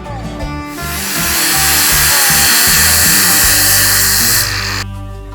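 An angle grinder grinds back rusty sheet metal on a pickup truck, spinning up loud and close, holding a harsh whining roar for about four seconds, then winding down abruptly.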